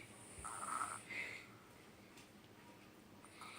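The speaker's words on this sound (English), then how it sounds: "Do you hear it snoring?" Faint, soft snoring from a young one comes in a couple of brief nasal breaths, then quiet room noise.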